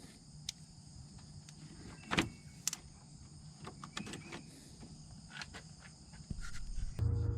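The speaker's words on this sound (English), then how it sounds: "I'm going to remove the negative battery terminal with a 10mm socket" A ratchet and 10mm socket loosening the negative battery terminal on a 2001 Ford E250, heard as a few quick metallic clicks and short ratcheting bursts over a low background hum, close and fairly quiet.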